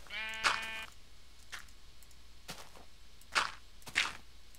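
Sheep bleating in the Minecraft video game: one loud, harmonic bleat near the start, then a few short, fainter game sounds against a quiet background.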